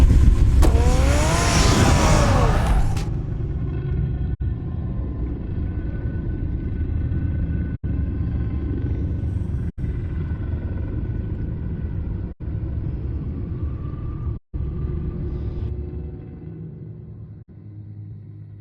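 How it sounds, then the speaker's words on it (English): Car engine in the Telltale Batman video game roaring loudly as the vehicle revs and drives off, a steady rumbling drone with brief revving at the start, then fading slightly toward the end. "Get the car ready, Alfred."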